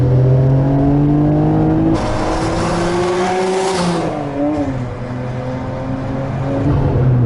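A 1992 Nissan R32 Skyline GTR pulls hard out of a corner in second gear, its engine note climbing steadily, briefly shifting, then rising again, loud and close from inside the cabin with no voices.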